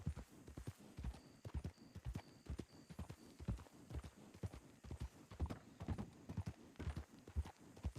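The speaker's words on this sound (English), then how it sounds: "And you have clip clop, clip clop, clip clop." Horse hooves clip-clopping in the RedM WildRP game world, a steady rhythmic walking beat of many evenly spaced clops, moderately close and quiet, alone with no talk.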